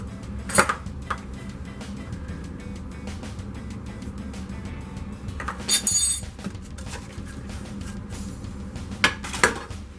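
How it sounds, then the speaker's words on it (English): Biscuit dough pieces placed one by one into a metal muffin pan for mini pot pies, with a few soft knocks and light clinks of the pan spread over a quiet background hum. "you're going to put one into your muffin pan, in each one of the little holes"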